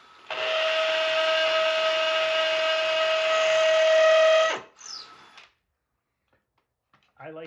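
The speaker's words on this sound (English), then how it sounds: "I always drill a little bit farther than the screw" Power drill boring a hole for a Tapcon concrete screw during basement framing: a loud, steady high-pitched whine for about four seconds, then a spin-down and brief rattling, followed by quiet and a short voice.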